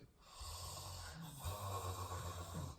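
A voice imitates a strange, drawn-out snore: a low, rattling rasp with a brief catch in the middle, heard alone and close.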